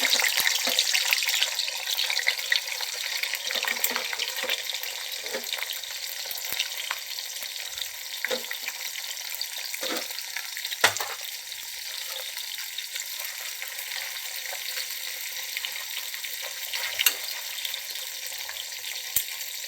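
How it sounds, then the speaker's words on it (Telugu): Dried fish sizzle steadily in hot oil in a pan, a continuous crackling fry with occasional sharper spits and pops, close and unbroken, with no talking. "నూనె కాగిందండి ఇప్పుడు మనం ఈ ఎండి చేపలని వేసేసుకుందామండి"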